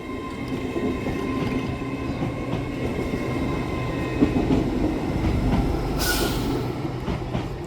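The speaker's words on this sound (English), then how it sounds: "getting ready to depart now is 801 111 and 801 102 with the 1724 LNER Azuma service from Bradford Foster Square" Two coupled LNER Azuma class 801 units departing Shipley station: a steady rumble of wheels and traction hum with faint squeal, passing close and fairly loud, no talk.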